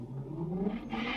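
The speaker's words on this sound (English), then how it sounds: "So, serious revving and speeding outside. Really loud." A car revs and speeds past outside, a steady rising engine roar with a whirring tone, heard at a moderate distance and fairly loud throughout.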